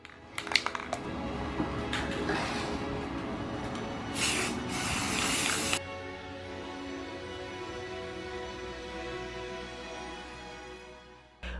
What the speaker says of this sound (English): Then a glossy spray paint clear coat.